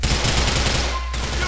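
Dense gunfire rattles through a shootout in GTA IV, a loud, continuous barrage that briefly thins before resuming.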